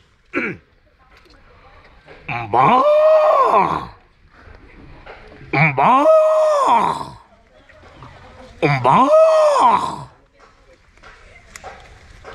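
A man imitates the lowing of a large Jersey cow with his voice, giving three long, loud moaning calls spaced a few seconds apart, with quiet gaps between them.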